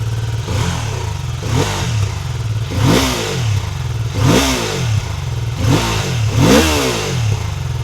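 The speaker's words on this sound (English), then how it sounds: "torquey engine with a satisfying fat pickup when you open the throttle" BMW F450GS motorcycle with a 135-degree crankshaft parallel twin, revved repeatedly on a sound check, giving about four loud throttle blips that rise and fall in a steady rhythm over a continuous idle.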